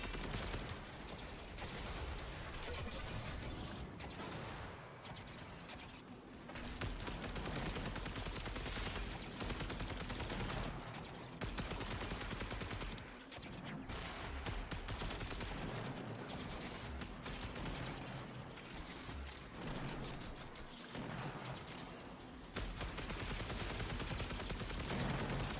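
Sustained rapid gunfire from a gun in the shooter game Warframe, loud bursts running almost continuously with brief pauses, like reload breaks, between volleys.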